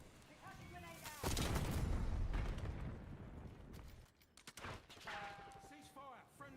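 An enemy thermal barrage in Black Ops 6 arrives as a loud, sustained roar of blasts and gunfire that holds for several seconds, then fades into scattered bursts, with brief game voice callouts around it.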